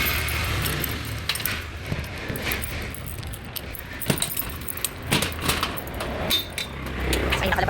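Keys jangle and clink repeatedly in short, irregular bursts at close range, mixed with handling noises and the rumble of a nearby vehicle outdoors in Cambodia.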